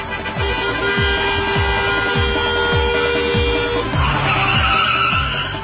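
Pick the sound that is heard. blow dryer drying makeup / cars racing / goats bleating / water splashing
cars racing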